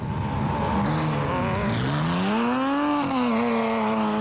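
Secarock Sandmaster off-road race car with a Nissan V6 engine racing at the Caledon 400, loud and close, its engine note climbing and dipping as it revs and holds through gears, steady throughout.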